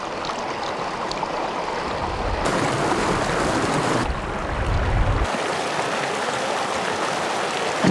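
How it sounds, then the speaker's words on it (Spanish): River water flowing in San Pedro de Atacama in the Chilean desert, a loud, continuous rush of water that shifts in texture partway through and carries on steadily, with no voices. "escuchar el sonido del agua."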